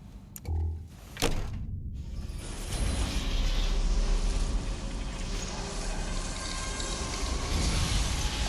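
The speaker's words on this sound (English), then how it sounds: "I love watching the door open every single time." A massive vault door in Fallout 4, at Vault 114, opens with a few sharp clanks and then a loud, steady mechanical rumble and grind that fills the rest of the clip, with no voices over it.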